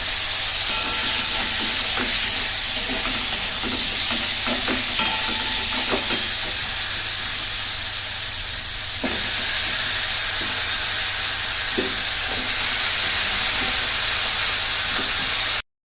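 Jackfruit and potatoes sautéing in oil in a pan, a steady broad sizzle running throughout with scattered clinks and scrapes of stirring, no talk.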